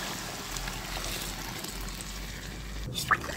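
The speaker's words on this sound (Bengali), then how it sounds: "এখন আমি ঝোলের জন্য জল দিয়ে দিচ্ছি।" Hot water poured into a simmering curry of fish and green banana, a soft, steady liquid rush close up, ending with a brief clink near the finish.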